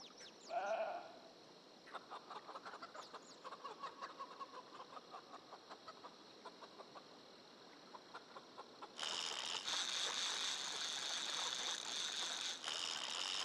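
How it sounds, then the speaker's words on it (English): Sheep bleat in a survival video game, a few short calls up front, followed by a steady run of clicking and mechanical hum, with a louder hiss-like wash in the final seconds. "I do, in fact, have sheep."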